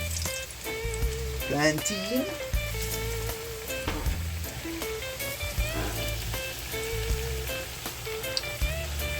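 Plantain slices frying in hot oil in a pan, giving a steady close crackling sizzle that runs throughout, with utensil clinks and scattered voice sounds mixed in.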